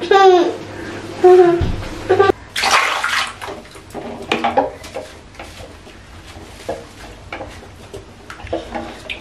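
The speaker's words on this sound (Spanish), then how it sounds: "solo que está dentro del agua pues jugando un ratito" Young child in a bath splashing and playing in the water, with bursts of sloshing, babbling and laughter, close and lively, with short pauses between splashes.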